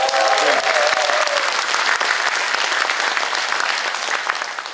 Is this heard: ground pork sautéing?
no